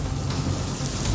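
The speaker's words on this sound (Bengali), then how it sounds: "বাইরে প্রচন্ড ঝড় বৃষ্টি হচ্ছে" Heavy storm outside at night, with dense steady rain and a low rumbling undertone, continuous over a short stretch.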